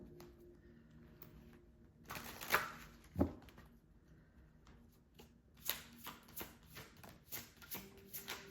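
Someone quietly handles and shuffles a deck of oracle cards, producing soft riffles, taps and flicks in an irregular run of close, faint sounds with no speech.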